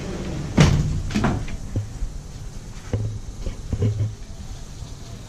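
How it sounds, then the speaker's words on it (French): A patio door is handled and slid open in a hotel room, giving a few quick clunks and rattles near the start followed by softer scattered knocks and scrapes, with no talking. "Comment qu'on fait pour ouvrir la porte patio?"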